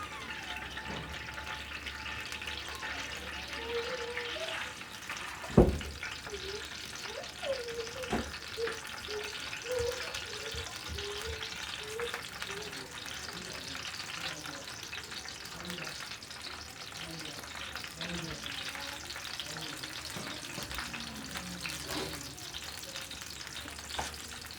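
Chicken bread rolls fry in hot oil with a steady, quiet sizzle and bubbling, broken by an occasional clatter of a utensil.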